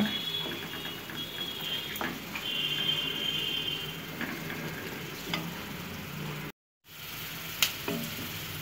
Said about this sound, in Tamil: இந்த மசாலாவை நல்லா வேக விடுங்க